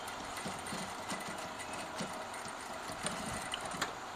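Sewing machine stitching down a seam on a polo shirt, a steady fast mechanical whir running the whole time with faint periodic clicks, close up and without talk.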